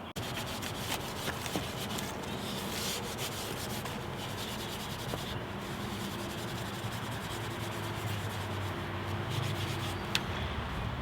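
Steady, continuous rubbing as old 1958 Volkswagen Beetle rims are polished by hand with a cloth, a close, dense, scratchy friction sound that runs without pause and with no talking.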